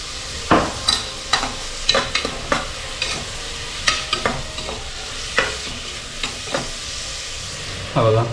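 Onions fry in a pan with a steady sizzle while a spoon stirs and scrapes them in repeated loud, close strokes, with no one talking.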